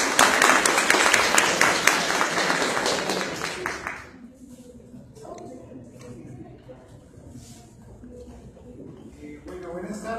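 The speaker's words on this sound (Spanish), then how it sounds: "le brindemos un fuerte aplauso" An audience at a university lecture on customs valuation gives a speaker loud applause that lasts about four seconds and then cuts off, leaving quiet room noise and some speech.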